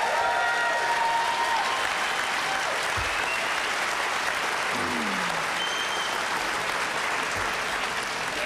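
Steady, dense applause from a conference hall audience at a health care and social justice event, sustained and even throughout, with faint voices underneath.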